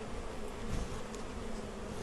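Crowded honey bees buzz in a close, steady, dense drone while a hive is opened for a pre-spring inspection, with no talk over it.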